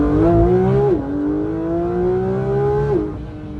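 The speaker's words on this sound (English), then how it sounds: "you get that naturally aspirated flat 6 screaming" A Porsche 992.2 GT3's naturally aspirated flat-six screams at high revs, its pitch sliding down briefly on a gear change, then climbing steadily again before dropping on another shift; loud, close and sustained with no talk.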